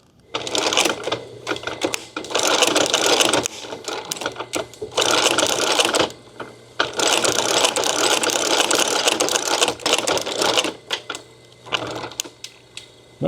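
Sewing machine stitching a custom leather holster: loud rapid mechanical chattering in several runs of one to four seconds separated by brief pauses, close and alone without talk.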